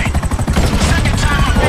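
A helicopter's rotor thumps fast and loud in GTA 5 during the Merryweather Heist freighter mission, tangled with bursts of rapid gunfire throughout.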